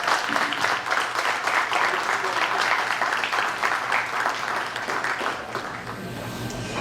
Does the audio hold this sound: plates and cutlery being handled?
no